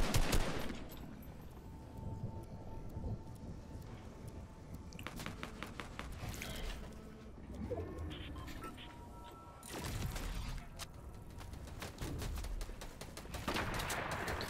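Fortnite gunfire: rapid automatic bursts and single shots, some loud and near and others fainter in the distance, scattered across a busy game soundscape.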